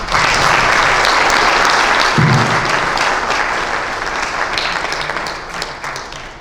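An audience at a chapter meeting panel discussion on mental health awareness applauds the panelists, a loud, sustained round of clapping from a roomful of people that slowly tapers off.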